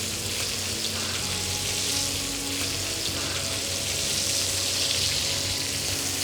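Fresh butter with a clove of garlic and a sprig of rosemary sizzles steadily in a pan on a commercial Vulcan hot top, a constant close hiss and crackle with no talking.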